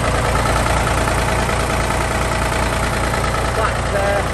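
A 1961 Porsche Diesel three-cylinder tractor engine idles steadily at close range, a continuous low throbbing rumble, with a speaking voice faintly mixed in.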